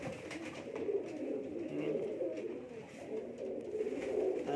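Pigeons gathered on a rooftop coo in a continuous low murmur for several seconds, steady and fairly close, with no one talking.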